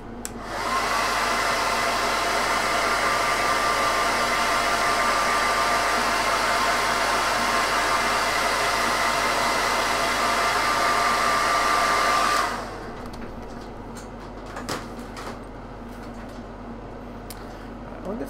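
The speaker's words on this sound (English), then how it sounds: "I'm just going to give it a blast with a hairdryer just to help me along." A hairdryer blows on a Darth Vader bust miniature, a loud, steady, close-up roar for about twelve seconds that cuts off abruptly, leaving faint room noise and a few small knocks.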